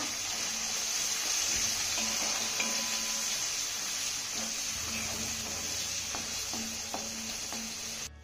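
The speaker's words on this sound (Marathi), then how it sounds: "त्यानंतर हा टोमॅटो आपण चांगला मिक्स करून घेऊया।" Tomato sizzles steadily in a pan while being stirred, with occasional soft scrapes and clinks over a constant frying hiss and a faint background hum.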